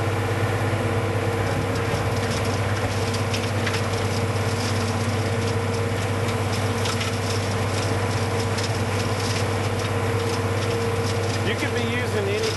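A skid steer engine runs steadily with a Sweepster hopper broom attached, sweeping gravel and debris from a road. Its continuous loud, droning hum has a mechanical whir and faint rattling on top, with no clear rise in revs.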